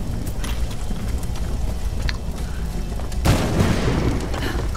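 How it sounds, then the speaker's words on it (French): A pistol shot rings out in the video game Tomb Raider 2013, a single loud burst partway through, followed by a sustained noisy wash over an ongoing game soundtrack. "vous entendez le coup de feu, quoi."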